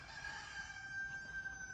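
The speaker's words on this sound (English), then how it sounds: "the roosters are crowing" A rooster crows in the distance, one drawn-out call, faint against quiet outdoor background.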